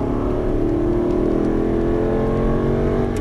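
An Aston Martin V8 Vantage at full throttle on a circuit at Dreux, its engine a loud continuous drone with pitch rising steadily as it accelerates, heard from on board without talk.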